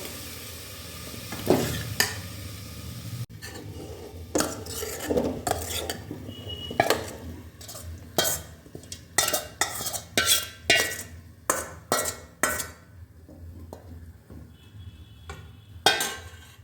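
Hand-mashed potato mixture is scraped and pushed into a pressure cooker, a string of close clattering scrapes and soft thuds of metal spoon against the pot, irregular bursts with quiet gaps between.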